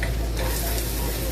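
Onions frying in a little butter in a pan, cooking corn soup in a home kitchen: a steady, close, continuous sizzle with soft stirring, no talking.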